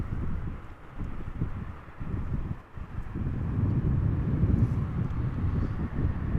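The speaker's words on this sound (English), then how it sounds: "Flight 204 arriving from Philadelphia. It's a 7878, the smallest of the family." A Boeing 787-8 airliner arrives at Amsterdam Schiphol Airport, a steady broad engine roar heard from a distance with wind buffeting the microphone, low and continuous throughout with no voices.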